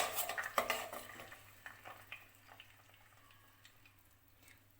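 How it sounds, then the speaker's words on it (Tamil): Eggs are stirred in a kadai while cooking egg fried rice, with close metal scraping and clinking of a spoon against the pan in uneven strokes over a faint sizzle, loudest at first and then softer, without talking. "முட்டையை முதல்ல நம்ம வந்து பொரியல் மாதிரி செஞ்சு எடுத்துக்கலாம். லைட்டாக அப்படி கலந்து விட்டுருங்க."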